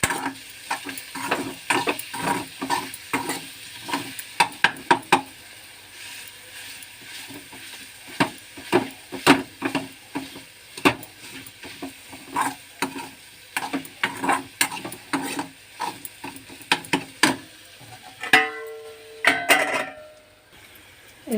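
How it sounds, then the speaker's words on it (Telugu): A spoon stirs chili powder into mashed cooked green plantain curry in a pan, giving a close run of irregular scraping and clacking strokes with a faint sizzle underneath, pausing briefly near the end. "కారం వేసేసి ఒక 2 మినిట్స్ పచ్చివాసన పోయేంత వరకు తిప్పుదాము"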